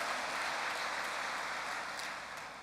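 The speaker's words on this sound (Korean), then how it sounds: "여러분 박수 좀 보내주실까요?" A congregation claps during a church worship service, a steady, dense wash of applause that fills the room evenly and fades slightly at the end, with no voices over it.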